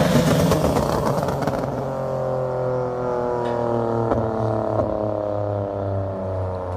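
A BMW E46 M3 fitted with an old, very loud aftermarket exhaust revs hard, then settles into a deep, droning burble with steady harmonic rumble and a few sharp pops, close and loud throughout.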